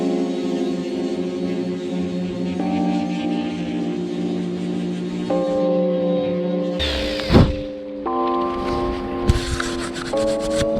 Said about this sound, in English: Sanded that down a little bit, took it back, and kind of just made the whole thing a bit smoother around the edges.